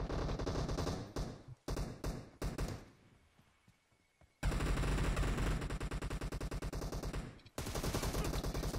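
Rapid automatic gunfire from a mobile shooter game played on an iPad, loud bursts broken by short pauses and a quieter stretch, with no talking.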